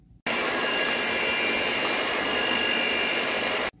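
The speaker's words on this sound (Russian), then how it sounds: "И все это мы с помощью миксера перемешаем" An electric mixer beats butter for a cake cream, switching on abruptly into a constant high whirring drone that runs unbroken for about three seconds before cutting off.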